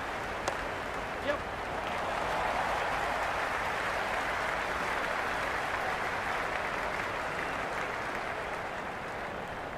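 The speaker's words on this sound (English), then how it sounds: "the crowd have joined the party. It's pretty noisy at the ground." A cricket crowd in the video game Cricket 26 roars steadily during an IPL match between RCB and SRH, a broad, continuous wash of cheering that holds level throughout, with a couple of brief sharper sounds near the start.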